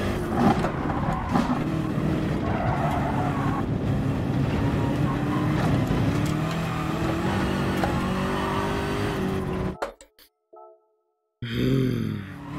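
Race car engine in GT Sport at the Nordschleife, a loud continuous roar with rising pitch through gears for about ten seconds, then a sudden drop to near silence before a brief return of engine noise.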